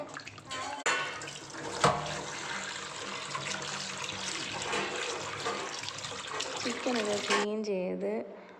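Running tap water while raw chicken is washed in a home kitchen during a hot day, a steady splashing stream with clatters and bumps, ending in a short burst of voices.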